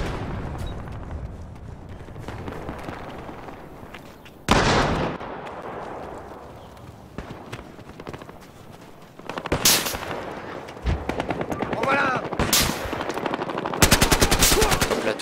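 Automatic fire from an SA-58 OSW rifle in the video game Battlefield Hardline, with loud rapid bursts cutting in repeatedly over constant battlefield noise and scattered shots.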